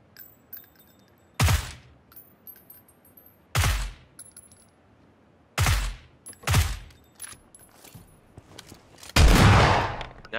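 Shotgun fire in a video game: about five loud, sharp booming blasts spaced a second or two apart, the last one heavier, with faint game sounds between them and no talk.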